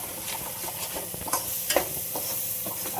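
Maharashtrian eggplant masala with red chili is stir-fried in a pan: a constant sizzle broken by several sharp scraping strokes of a spatula, close and fairly loud, with no voices.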